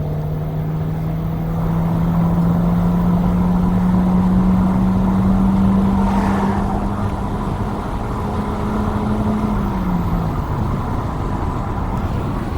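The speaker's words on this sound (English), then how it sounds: "This is foot down in second gear" A 1.4 litre car towing a 3 metre trailer, accelerating flat out in second gear: a steady, droning engine note that climbs slowly in pitch over road and wind noise, then drops near the end as the throttle eases.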